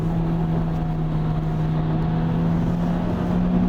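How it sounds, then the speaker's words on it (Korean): Hyundai Avante engine held at steady revs after a manual downshift, a sustained droning hum with a strong low tone running continuously and fairly loud, with no talk over it. "오, 엔진 소리가 달라."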